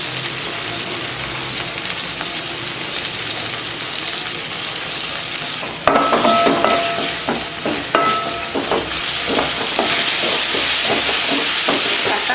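Tomatoes with a little salt sautéing in a pan for chicken and green pea gravy, a soft sizzle that jumps louder midway as stirring begins, with spatula clinks and a brighter hissing fry continuing to the end.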